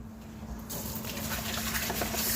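Water running from a tap over the small anti-clog part of a Ninja Foodi pressure cooker as it is washed, a steady splashing hiss that grows louder partway through, close and without voices.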